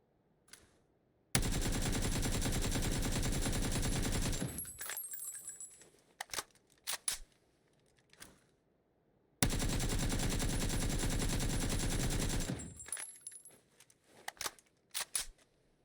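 Automatic rifle fire in PUBG during recoil testing on a console shooting range: two long, sustained bursts of rapid shots, each trailing off into a few clicks and clinks, with a short pause between them.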